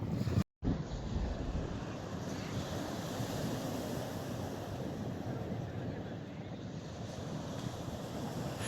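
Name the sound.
waves on the Mediterranean beach of Benafeli, Almassora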